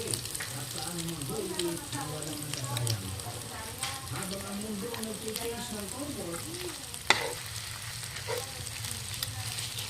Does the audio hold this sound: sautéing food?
yes